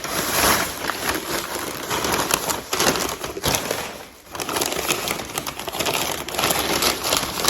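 Loud, continuous crinkling and tearing of gift wrap being pulled off a boxed gingerbread house, close up, with a brief pause partway through before the rustling resumes.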